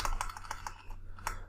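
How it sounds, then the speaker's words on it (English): Quick, light keystrokes tap out on a computer keyboard in an irregular run of close clicks over a low steady hum. "I just copy it and paste it here and type here something like 15 John"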